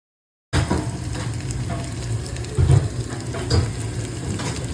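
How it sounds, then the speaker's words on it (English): Fried rice with prawn, egg and vegetables stirred in a pan, a steady close sizzle with scraping spatula strokes and a couple of louder clattering bursts, no voices. "Now I'll add the fried vegetables, the prawn, the egg, everything, as well as the rice layer by layer, and then I will mix the entire thing."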